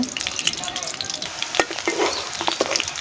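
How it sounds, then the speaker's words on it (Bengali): Chopped onion and garlic fry in hot oil for a Malabar spinach dish, giving a loud, close, continuous crackling hiss scattered with sharp pops and light stirring clicks. "এখানে তেলটা দিয়ে দিলাম, সাথে পেঁয়াজ কুচি আর রসুন কুচি দিয়ে দিচ্ছে।"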